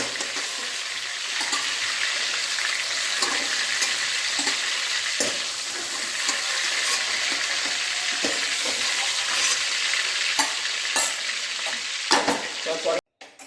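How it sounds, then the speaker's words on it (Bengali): Chicken pieces frying in a pan sizzle loudly and steadily while a utensil stirs and scrapes them, close by, ending with a brief clatter as the meat is lifted out. "এই দেখুন আমার মাংসটা সব ভাজা হয়ে গেছে আমি এটা তুলে নিচ্ছি"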